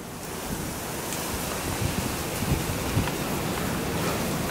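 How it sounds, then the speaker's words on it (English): Cold wind blowing outdoors beside a house in winter, a steady broadband roar with gusty low rumbles and buffeting against the microphone, continuous and fairly loud with no talking. "Can we talk about this wind? It's so cold out here. Do you hear the wind?"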